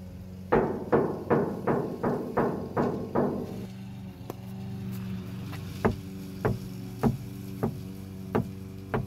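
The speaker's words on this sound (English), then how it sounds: "Let me go ahead and tap it now so you guys can see the sound difference" A hand taps on an insulated Toyota Tacoma roof panel in a quick run of seven dull knocks and then a slower series of single taps. A lawn mower hums faintly in the background.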